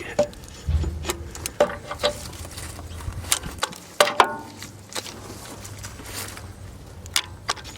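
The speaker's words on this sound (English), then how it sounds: "I've got the torque wrench, so we'll do it to spec" A torque wrench ratchets as it tightens the oil drain plug on a Ford Transit MK6-MK7 van to spec, giving close, intermittent metallic clicks and clunks with brief pauses and no talking.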